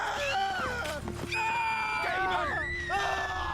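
A crowd of characters in Final Fantasy XIV screams and yells in panic while fleeing, several overlapping wailing voices rising and falling, loud and continuous with game sounds underneath.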